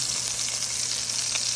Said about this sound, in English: Now, put the fresh green chilies on there.